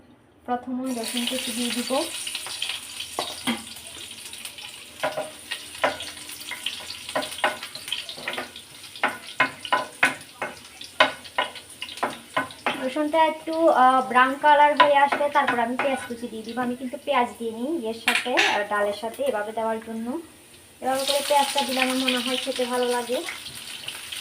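Hot oil sizzles in a pan on the stove, a bright crackling hiss running steadily through with scattered pops and clinks, while someone talks over it throughout.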